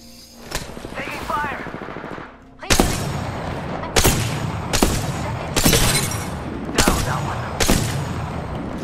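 Rapid automatic gunfire in the Apex Legends video game: a brief burst, then a run of loud, sharp volleys that repeat every second or so with steady game noise between them.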